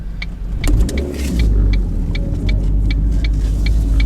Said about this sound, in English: See how I just revved that up and was in first gear and was able to take off?